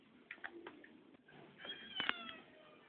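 A cat meows several times, faint and close, with a louder, drawn-out meow near the end and no voices.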